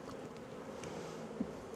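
Honey bees buzz steadily at an open hive in a sunny apiary on a very hot day, a dense, continuous hum close by with a small louder blip near the end and no voices.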